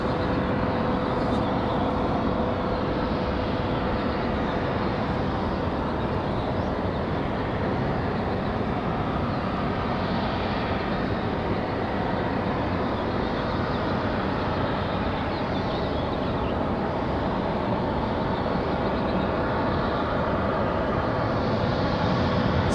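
An American Airlines 737-800 departs toward Dallas Fort Worth, its jet engines producing a steady, broad roar that holds constant throughout, heard from a distance at an airport.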